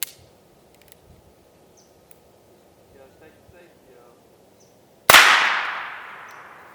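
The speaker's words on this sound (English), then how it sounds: "I'm going to be shooting my Heritage Rough Rider." One loud, close shot from a Heritage Rough Rider single-action .22 long rifle revolver fired at a lock rings out with a long decaying tail, after several seconds of quiet outdoor ambience and faint murmuring.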